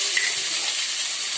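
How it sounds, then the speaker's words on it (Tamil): Spices, onion and tomato sautéing in a pan, giving a brief, steady, close hiss of frying with no distinct stirring strokes and no talk. "அதெல்லாம் போட்டு கொஞ்சமாக வதக்கிட்டு இதில் கொஞ்சமாக தக்காளி வெங்காயம் போட்டுக்கிறேன்"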